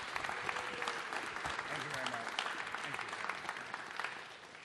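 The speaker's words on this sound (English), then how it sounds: "Let's give applause to Brian Lamb." Sustained applause from a large audience in a university engineering hall, dense clapping filling the room and slowly tapering off toward the end.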